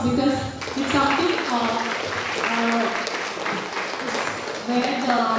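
An audience at a dental college event breaks into sustained applause, with a voice speaking over the clapping.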